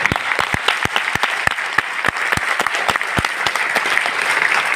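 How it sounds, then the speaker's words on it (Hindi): An audience bursts into a round of loud applause in a hall, with sharp, dense hand claps sounding continuously and close for several seconds. "उनके लिए एक जोरदार तालियां।"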